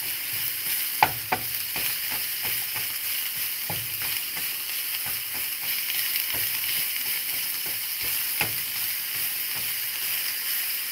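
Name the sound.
ground meat browning and being stirred in a hot pan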